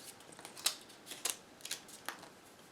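Paper wrapper being peeled off a stored tuna can: a handful of quiet, sharp crinkling snaps and tears at irregular intervals, close by, with no talking.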